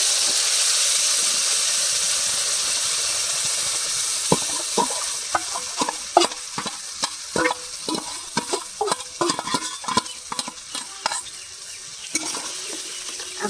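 Ground pointed gourd paste sizzles and spits loudly in hot oil with black cumin, a steady frying hiss broken by repeated scraping stirs against the pan.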